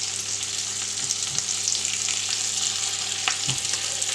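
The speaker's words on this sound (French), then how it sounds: "Et on va se faire revenir cet ossobuco en le faisant dorer." Floured veal osso buco pieces browning in a hot pan give a steady, close broadband sizzle, with a few soft knocks and shifts as the meat is moved.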